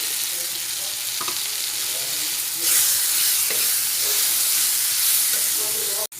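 Spice paste frying with tomato in a pan, a loud, close, steady sizzle with stirring scrapes and a burst of hissing steam partway through.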